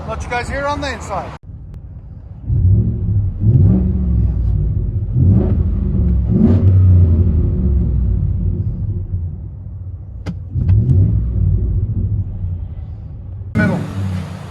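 From inside the cab of a 2014 Ford F150 5.0L with a Rough Country cat-back dual exhaust, a muffled low rumble swells through repeated revs. Voices are heard at the start and end.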